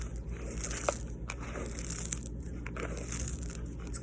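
Dry, brittle leaves crunching and crackling up close, a steady rustle with a few sharper snaps, no talking.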